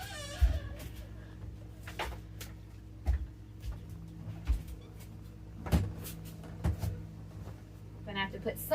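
A loose door inside a camper bangs and knocks irregularly, with repeated faint thuds and rattles spread across several seconds, joined by brief vocal sounds at the start and end.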